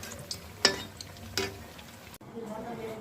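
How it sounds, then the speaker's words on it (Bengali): Potato chops (alur chop) fry in oil with a soft, steady sizzle, punctuated by a couple of sharp utensil clinks against the pan. "এইভাবে আমি প্রত্যেকটা চপ ভেজে নেব।"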